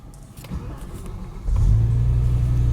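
A BMW E60 M5 V10, recently fitted with a carbon plenum, cranks and catches, settling into a loud, steady close idle after some quieter rustling, with no talk.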